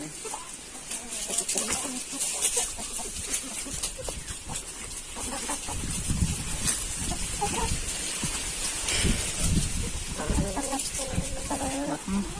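Many chickens cluck and squawk continuously nearby, a busy flock chattering throughout with overlapping calls and some background shuffling.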